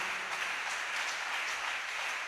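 A church congregation applauds Jesus, a steady wash of clapping that runs evenly from start to finish with no voices on top.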